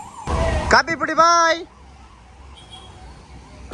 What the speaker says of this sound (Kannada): ಸೈರನ್ ಬೇರೆ ಬರ್ತಾ ಇದ್ದಾಳೆ.